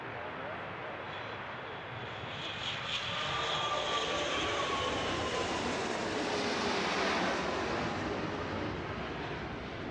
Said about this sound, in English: So that plane also did not make the scene on my radar here.